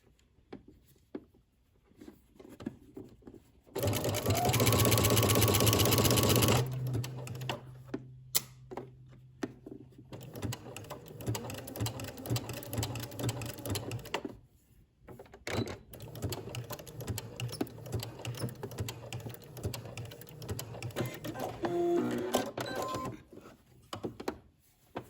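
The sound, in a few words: sewing machine sewing a maxi dress side seam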